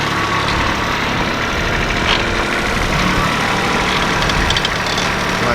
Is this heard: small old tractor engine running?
yes